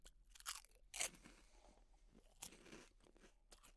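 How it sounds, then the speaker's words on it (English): Spicy, dry chicharrones (pork rinds) crunched and chewed up close, several sharp crisp bites followed by softer rhythmic chewing, quiet and with no talking. "You guys know what I'm munching on? Little chicharrones!"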